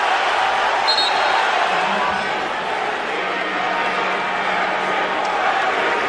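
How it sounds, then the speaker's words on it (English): A basketball arena crowd buzzes loudly and steadily during a pushing-and-shoving scuffle between players, a dense continuous roar with faint shoe squeaks and muffled voices mixed in. "This crowd on their feet."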